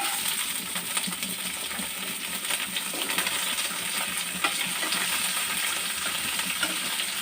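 Onions fry in tempered oil with a continuous close crackling sizzle and scattered small pops that hold steady throughout.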